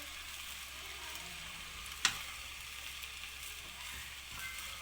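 Green chillies being stirred into egg fried rice in a pan over medium heat: a steady soft sizzle runs throughout, with one sharp click of the utensil against the pan near the middle.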